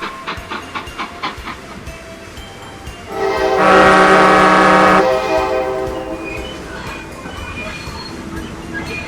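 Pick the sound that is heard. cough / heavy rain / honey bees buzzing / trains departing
trains departing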